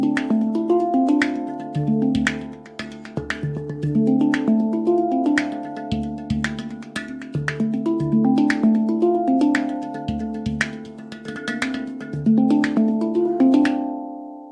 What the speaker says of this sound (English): This week we're learning a cool new groove that you can play on your handpan